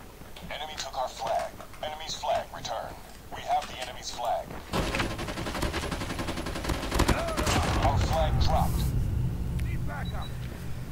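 Rapid automatic gunfire from the mobile shooter game Call of Duty Mobile, a sustained burst of shots after several seconds of someone talking, followed by lingering game noise.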